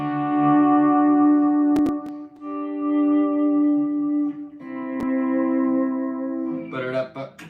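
Electric guitar played with volume swells through drive, delay and reverb, with sustained notes fading in and ringing out with echoing tails, followed by a brighter, busier passage at the end.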